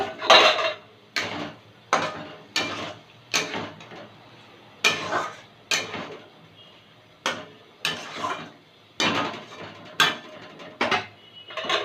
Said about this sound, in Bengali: এবার আলুগুলো দিয়ে দেবো